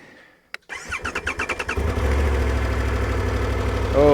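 A motorcycle engine cranks with a rapid series of starter pulses, catches and settles into a steady, loud idle close by, revving slightly at the end; no talk.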